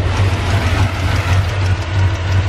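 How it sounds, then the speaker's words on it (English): An LS-swapped Chevrolet S10 idles with a steady low rumble and rough pulsing from an exhaust leak where the gasket is missing and the pipe has lifted off, running alone and close by. "And it's just an exhaust leak,"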